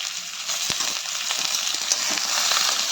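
Capsicum, onion and chopped chilli frying in a pan for chilli chicken give off a steady bright sizzle and hiss, with small pops and the scrape of stirring.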